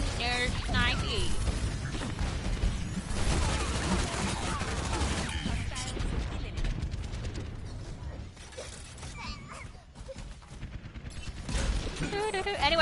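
Video game gunfire in Overwatch, including sniper shots, with rapid mechanical clicks, bursts and clattering effects running loud and continuous while a voice talks over the action.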